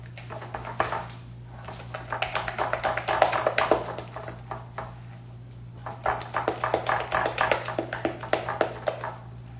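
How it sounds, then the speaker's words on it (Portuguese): A spatula beats cookie dough of butter and sugar in a bowl, making quick rhythmic tapping and slapping strokes in bursts, close and moderately quiet over a steady low hum. "pode bater com a espátula mesmo, pode bater com fouet, tá?"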